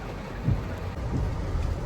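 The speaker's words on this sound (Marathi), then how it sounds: "पाऊस चांगलाच पडतोय बघू शकता" Heavy monsoon rain pours steadily in a Konkan village, a dense continuous hiss with low rumbling, loud and unbroken.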